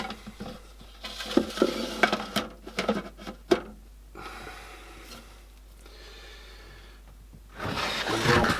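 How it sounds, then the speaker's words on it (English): Lid being fitted onto a communal tarantula enclosure for Monocentropus balfouri, a few close plastic clicks and scrapes in the first seconds, then quiet handling rustle and a louder shuffle at the end. "So what we'll do is put the lid on"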